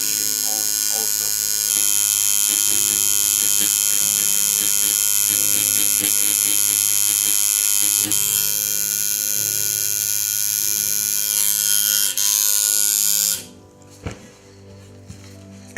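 A scalp micropigmentation tattoo machine runs with a steady, close electric buzz and hum nearly throughout, stopping abruptly near the end and leaving a quiet room.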